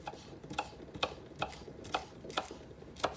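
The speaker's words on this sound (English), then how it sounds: "chop up the green part of this onion" Knife chopping the green part of an onion on a cutting board, with seven sharp, evenly spaced taps about half a second apart, close by but fairly quiet, with no voices.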